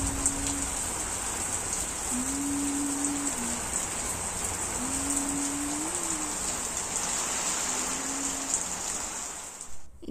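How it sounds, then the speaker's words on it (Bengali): Heavy rain falling outside a home in a dense, steady hiss, heard from indoors with a faint tonal hum drifting in and out underneath. "দেখলে বাইরে কি পরিমাণ বৃষ্টি হচ্ছে, আর আওয়াজটাও সেরকম হয়েছে।"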